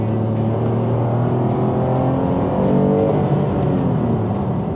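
A 2018 Toyota Camry V6 in XSE trim revs with a smooth, steady growl, its pitch climbing and shifting under load, loud and close with no talk.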